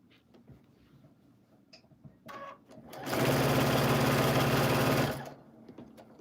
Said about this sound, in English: we're going to take these as well and flip and stitch this